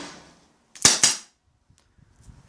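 Tanaka gas airsoft revolver fired at a target, two sharp close pops in quick succession, then near silence with faint small clicks afterward.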